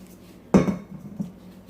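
An oil-greased baking pan for Ethiopian ambasha bread is set down with a single sharp metallic clank, followed by a softer tap a moment later in an otherwise quiet kitchen.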